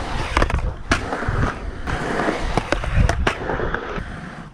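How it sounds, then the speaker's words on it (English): Skateboard wheels and trucks rolling on a ramp during frontside rock and roll tricks, with repeated loud clacks and grinding scrapes as the board locks onto the coping and turns back in. "So yeah, there's some frontside rocks and some turns."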